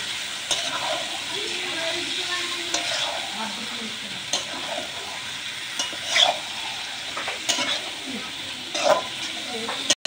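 Duck meat curry being stirred as it fries in a pan, with steady sizzling and bursts of spoon scraping and clatter against the metal throughout.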